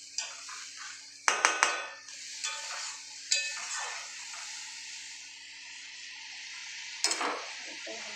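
A spoon stirs spice paste in a pan, scraping and clinking against the metal, with a soft sizzle underneath. Several sharp knocks stand out against the low, steady frying hiss.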